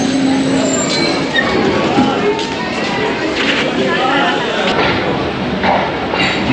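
Train 101UP Subk Raftar pulls out of Gujrat station beside the Chenab on a foggy morning, a steady rumbling roll of wheels and carriages with faint squeals and clatter, under someone talking and crowd voices.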